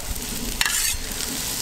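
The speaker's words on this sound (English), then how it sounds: "Doesn't take long for those to saute, especially in that ground beef fat" Chopped onions sauteing in ground beef fat on a Blackstone griddle, a close, steady sizzle with a brief sharp scrape of a spatula partway through, no talking.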